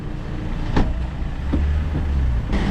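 A sold car pulls away on its way toward Konya, its engine a low steady rumble at moderate distance with a few faint knocks and bumps, and no one speaking.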